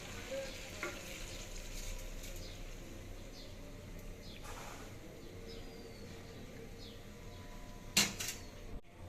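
Soaked pulao rice is stirred with vegetables in a pan, a low, steady frying hiss with soft scraping and one sharper clatter near the end.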